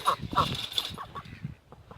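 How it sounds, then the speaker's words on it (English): Chickens and a duck in a pen make short, honking fowl calls near the start, then quieter scattered clucks and rustling follow. "we got 1, 2, 3, 4, 5, 6 chickens, and a duck"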